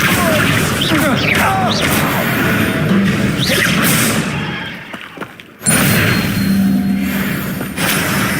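The Incendio fire spell cast in Hogwarts Legacy, a dense burst of crackling, booming magical blast noise layered with combat effects and voices. It drops briefly to near silence midway before resuming at full strength.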